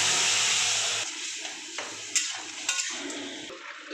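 Vegetables poured into hot oil tempered with fenugreek seeds and neem leaves give a loud burst of hissing sizzle that quickly fades into softer crackling, with light clatters of a spoon against the pan.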